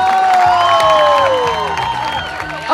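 Audience at a 1vs1 hip-hop dance battle quarterfinal in an arena cheers and applauds, a loud dense wash of crowd noise with whoops and clapping over music throughout.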